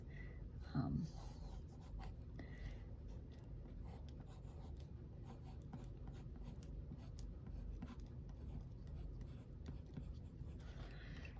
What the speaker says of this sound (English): I do it first with a pencil so that if it is a little off, I am able to adjust it.